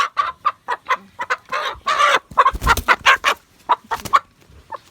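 A chicken clucks in a quick series of short, close calls, irregular in rhythm, with no talking.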